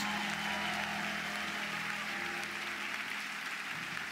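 Applause from a church congregation forms a dense, steady patter of many hands that continues evenly throughout, with no voices standing out.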